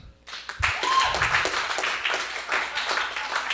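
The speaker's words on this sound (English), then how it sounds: "For a round of applause" Comedy club audience breaking into applause, a dense wash of clapping that starts abruptly and holds steady and fairly loud, with a few stray voices mixed in.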